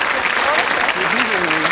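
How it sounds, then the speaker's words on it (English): Studio audience applause on a 1985 Scottish episode of the game show 3-2-1, a steady wash of clapping throughout, with a voice speaking over it. "Give them a round of applause for that alone"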